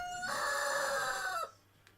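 A rooster crows once, loud and drawn out, just outside a window, with the call cutting off abruptly into quiet.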